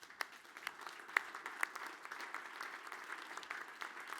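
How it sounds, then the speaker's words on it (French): A church congregation gives soft, steady applause after a Sunday prayer, with quiet, distant, evenly textured clapping and a few sharper claps standing out. "On peut s'applaudir."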